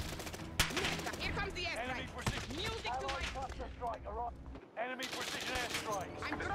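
Gunfire from a Call of Duty match crackles in repeated bursts beneath near-constant chatter between two players, with sharp shots scattered through the clip.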